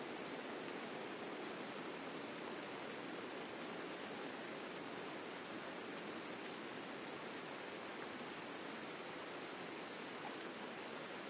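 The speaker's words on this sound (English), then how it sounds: "Outdoors, foggy rain, marvellous." Steady outdoor ambience of foggy rain in the colony-building game RimWorld: a continuous, even hiss of falling rain, moderately quiet and unbroken, with no voices.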